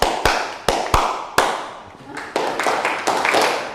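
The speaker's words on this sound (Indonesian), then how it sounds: "lakukan tepukan dengan aturan berbeda" A class clapping a counted rhythm for an ice-breaking game, several sharp, loud group claps in quick groups with short gaps between, close by, with voices talking in the background between them.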